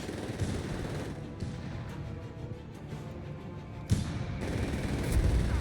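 Machine gun fire in the Company of Heroes 3 strategy game, a steady rattling barrage at moderate level under a busy battle din, with a sharp impact near the end.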